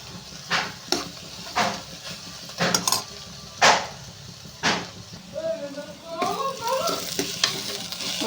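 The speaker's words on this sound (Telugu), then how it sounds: "ఉల్లిపాయలు అనేది వేగిపోయినాయండి" Onions fry in a pan for a ridge gourd curry, a soft steady sizzle punctuated by repeated sharp spatula scrapes and clinks against the metal. A person talks over the last few seconds.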